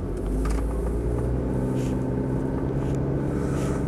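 Steady engine rumble and road noise come from inside a Mitsubishi Pajero 2.8 LWB Exceed automatic as it is driven, a constant low drone with no talking.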